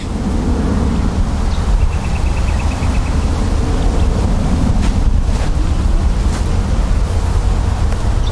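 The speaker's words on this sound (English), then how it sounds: "I don't know what the audio is like today with the wind" Wind buffets the microphone outdoors on wet, rain-soaked ground, a loud, steady low roar of gusting rumble that runs through the whole stretch with no talking.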